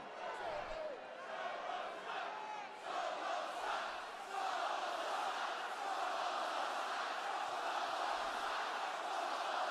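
A large wrestling crowd at WWE SmackDown in Phoenix, Arizona roars and cheers continuously, a dense, loud arena wall of voices with surges and swells throughout.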